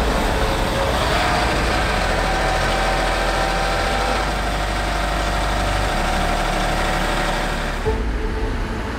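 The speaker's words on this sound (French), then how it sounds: "Le tout nouveau tracteur John Deere 8RX est également présent." A John Deere 8RX tracked tractor's heavy diesel engine runs steadily for several seconds with a deep rumble and broad mechanical noise, close and loud, no voices.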